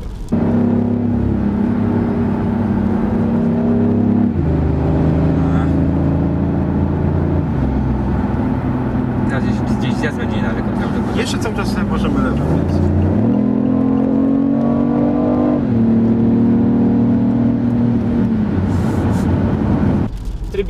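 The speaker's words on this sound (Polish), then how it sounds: "Porozmawiajmy o dźwięku BMW i 8." A BMW i8 hybrid sports car engine hums steadily at close range, its pitch stepping up and down as the revs change, with a low electric-like whine beneath.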